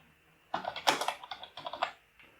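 Quick keystrokes on a computer keyboard typing a git pull command, a burst of clicks at an uneven rhythm, close and clear, ending with a brief pause.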